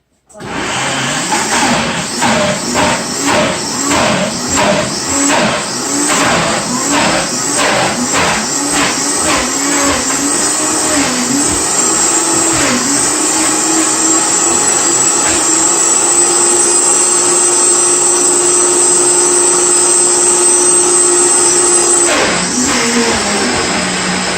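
A countertop blender whizzing lemon juice with peppers, starting with a series of pulsed bursts, then running steadily loud and close for a long stretch before stopping near the end.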